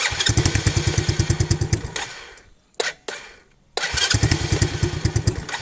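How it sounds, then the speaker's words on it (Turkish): A small ATV engine on a cold start idles with rapid regular pulses, cuts out briefly with a couple of sputtering cranks, then catches and runs again at a steady idle. "Arkadaşlar şimdi ATV'yi çalıştırdık güzelce."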